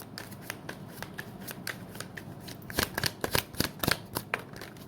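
Tarot cards being shuffled and drawn, crisp riffling flutters nearby that start sparse and then grow into quicker, louder bursts.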